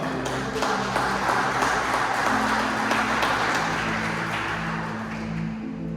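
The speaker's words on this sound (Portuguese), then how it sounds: "Você pode dar uma salva de palmas ao Senhor?" Church congregation clapping during a worship service, a dense sustained wash of many hands applauding together, loud and continuous with a held tone and some voices mixed in.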